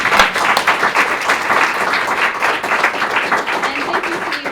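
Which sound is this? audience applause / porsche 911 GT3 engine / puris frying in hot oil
audience applause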